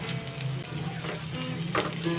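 Steady crackling sizzle of garlic burning in a hot pan, continuous and close, with faint clinks and stirring noises.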